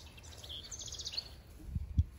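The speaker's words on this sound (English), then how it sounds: "birds in the trees yelling at us" Faint bird calls chirp in the distance from trees on a garden walk outdoors, with a couple of soft low thumps near the end.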